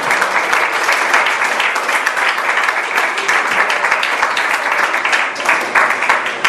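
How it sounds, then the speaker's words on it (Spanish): Church congregation applauding, loud dense clapping sustained evenly throughout with no pauses. "Un aplauso al Señor."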